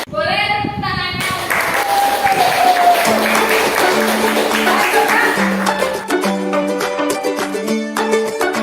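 A classroom group claps together, a loud, dense round of applause that carries on steadily throughout while music plays underneath.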